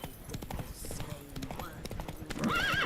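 Horse Roach in the Witcher 3 video game, hooves clip-clopping at a gallop with a sharp neigh near the end, heard under game dialogue and music.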